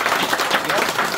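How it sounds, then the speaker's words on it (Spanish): Audience applause at a talk on raising children, a dense steady patter of many hands clapping together for just over a second, with voices mixed in beneath it. "Otra vez nuevamente un aplauso."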